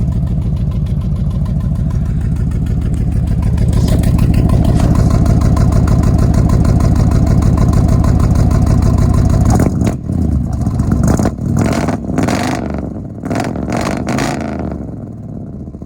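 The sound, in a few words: old truck engine running with slight skip, sputtering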